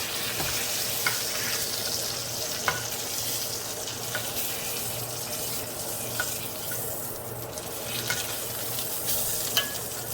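Pork loin sears in a hot pan with a constant close hiss of fat and juices, marked by occasional sharp pops and spits, with no talk.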